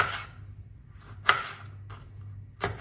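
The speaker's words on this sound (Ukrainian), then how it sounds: "Помідорчики я нарізаю" A few sharp knife chops through tomatoes on a board, spaced irregularly, over a steady low hum.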